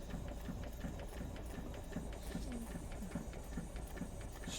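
A restored Doll 387/3 model steam engine runs on steam, giving off a steady, rapid, rhythmic chuffing and mechanical clatter. The sound is close and continuous, with no voices over it.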